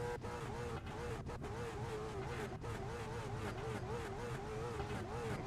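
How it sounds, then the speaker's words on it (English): NASCAR race cars at a Nashville race night roar continuously, a droning engine note that wavers in pitch as the cars circle, loud and sustained, with crowd and voice noise mixed underneath. "Love the sound of these race cars."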